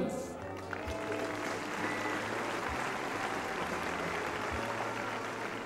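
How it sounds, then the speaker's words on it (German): Subdued applause at an equestrian competition, a steady wash of light clapping from a crowd in an arena, with a commentator's voice running over it. "also ein zahmer Applaus"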